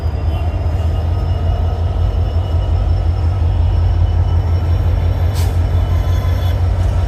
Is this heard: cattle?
no